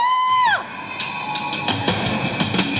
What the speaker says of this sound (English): Give yourselves a big round of applause, man.